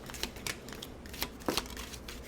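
A deck of tarot cards being shuffled by hand, with several quick papery riffles and snaps spaced irregularly, close and fairly quiet, with no talking.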